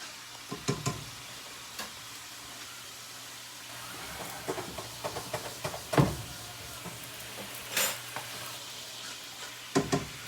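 Parmesan cream sauce reduces in a pan, giving a faint, steady sizzle broken by scattered soft ticks and clinks of stirring and utensils, quiet and close, with no talk.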